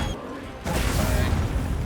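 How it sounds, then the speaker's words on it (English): A barrel bomb detonates in the Monster Hunter Wilds video game, a sudden loud burst that gives way to a dense, sustained rumble over the following second. "Another bomb."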